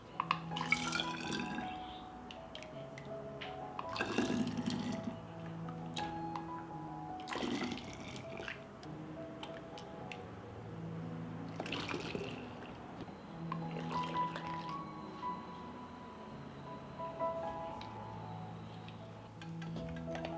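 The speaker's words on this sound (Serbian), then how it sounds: "I sok sipam u flaše." Hot juice pours into glass bottles that were sterilized in an oven, with lids boiled beforehand. A steady trickling, dripping stream runs for about twenty seconds with occasional glassy clinks, close and moderately loud.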